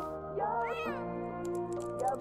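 A cat meows in The Sims 4, a clear drawn-out meow followed by a softer second one, close and fairly loud over faint game background tones.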